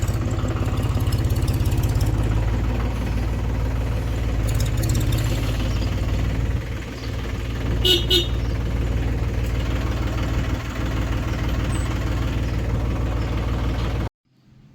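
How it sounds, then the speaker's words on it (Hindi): A parked tractor idling at home, its engine giving a loud, continuous low rumble with a steady throb that holds for around fourteen seconds before stopping abruptly. "तो ये घर पहुंच के ट्रैक्टर खड़ा कर दिया,"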